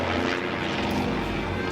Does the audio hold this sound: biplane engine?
yes